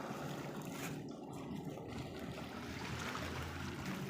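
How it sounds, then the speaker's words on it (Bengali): A fishing trawler carrying people out to fish motors past on open water, a steady close rumble of engine and water wash blended with wind noise throughout, with no talking. "এই যে ট্রলারে সবাই যাচ্ছে মাছ ধরতে"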